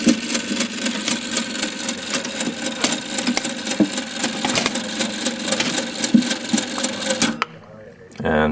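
An Exhibit Supply Photoscope coin-operated viewer machine runs with a continuous mechanical whirring and rhythmic clatter, close and fairly loud, before it stops abruptly near the end.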